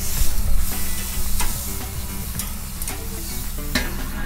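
Pork shoulder searing on a kamado barbecue grill for pulled pork, a loud, dense sizzle and crackle with sharp pops and stirring scrapes, continuous and close throughout.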